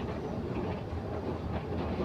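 A passenger train runs on rails with a steady low rumble and a faint rhythmic clatter, heard from inside the carriage at moderate volume with no talk.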